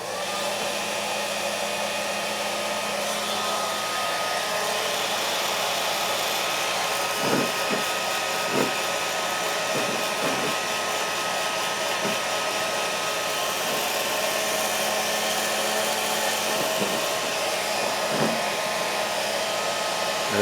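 A heat gun blows a steady, loud hot-air roar while shrinking capsules onto the tops of Pinot Grigio wine bottles, continuous throughout with a few faint clicks and knocks from handling.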